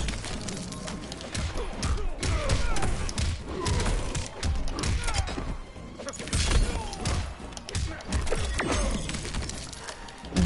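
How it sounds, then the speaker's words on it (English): Explosions and crashing hits in a Mortal Kombat X fight, a dense, busy stream of thuds, smashes and shattering impacts with faint voices mixed in. "Ooh, explosion."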